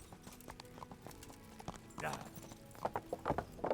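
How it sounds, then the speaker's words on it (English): Horse hooves clip-clop in steady rhythm in Kingdom Come: Deliverance, with a whinny-like burst midway, the hoofbeats growing louder and closer toward the end while someone talks over them. "Un caballo mágico"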